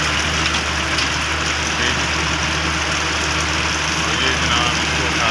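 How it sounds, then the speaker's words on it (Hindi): A tractor loader's engine runs steadily at a silage-making site, a continuous loud drone with no breaks, heard alone for the whole stretch. "लोडर है, ये इसको कैचर के थ्रू उठा लेगा"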